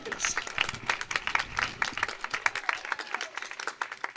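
Dense, rapid clapping from a conference audience, steady throughout with sharp individual claps standing out.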